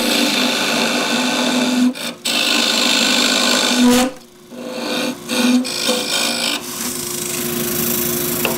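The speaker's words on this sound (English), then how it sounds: "with a square end scraper, which is this is a 3/4 inch" A 3/4 inch square end scraper cutting cross-grain wood on a lathe, a continuous scraping rasp over the hum of the spinning lathe with short breaks where the tool lifts off the wood.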